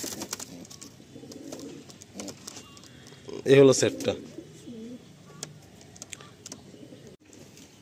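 Young pigeons coo in a loft with soft, repeated low calls and one louder burst near the middle, while someone talks over them.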